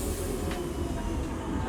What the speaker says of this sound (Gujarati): તો અત્યારે અમારે ફાઇનલી ટ્રામ આવી ગઈ છે